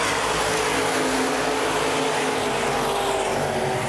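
Open wheel modified race cars roar around a speedway in a feature race, a loud, steady, dense engine drone with no breaks, filling the whole clip.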